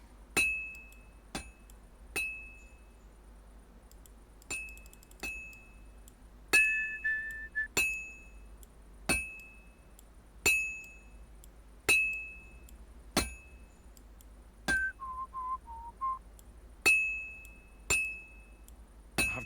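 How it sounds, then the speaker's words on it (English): Metal object struck with a hammer, sharp ringing hits repeating at roughly one-second intervals, some landing in quick doubles, each leaving a bright clinking ring, no talking. "I have to hammer it more evenly."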